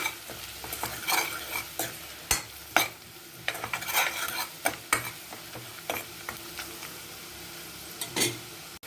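Chili powder and salt being stirred into broccoli in a hot pan: repeated scraping spatula strokes against the pan over a steady sizzle, close and fairly loud, with no talking.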